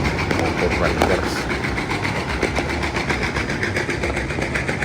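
Motorcycles roll past in a New Year parade circling a neighborhood, their engines producing a steady, dense rumble and clatter close by, with voices mixed in underneath.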